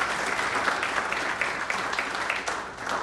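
Applause for sponsors at a basketball awards ceremony, a full crowd clapping in a steady, dense wash with no talk over it.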